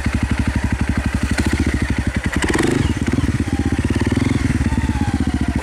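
Honda CRF250L motorcycle with an FMF exhaust and 13-tooth front, 45-tooth rear sprockets pulling in first gear, a close rapid thumping putter that rises into a sharper burst midway and then settles back to a steady chug.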